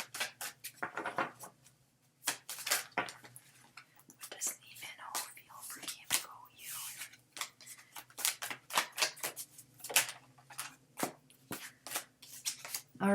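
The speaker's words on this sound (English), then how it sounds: "the way I'm doing my card readings is I shuffle till one card falls out" Tarot clarity cards being shuffled up close: repeated crisp riffling and flicking bursts in an irregular rhythm, fairly quiet, interleaved with soft whispered speech.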